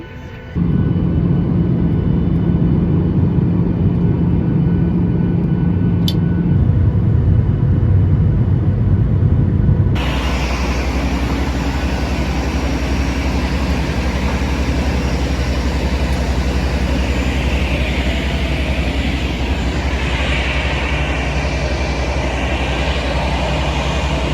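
A steady, loud roar of airplane cabin noise in flight, with a deep engine rumble and broadband hiss that shifts abruptly partway through and then holds constant, with no talking.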